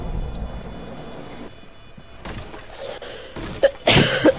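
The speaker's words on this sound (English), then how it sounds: "it really hurts to cough" Someone coughs a few times near a headset microphone, short harsh bursts clustered toward the end after quieter low background noise.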